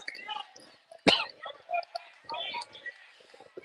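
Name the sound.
cough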